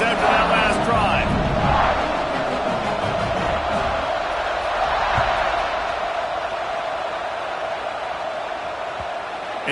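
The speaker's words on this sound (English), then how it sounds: "this crowd is feeling themselves after that last drive" Packed football stadium crowd cheers and roars during a kickoff near halftime, loud and sustained, with shouts and whoops rising early and the din easing slightly toward the end.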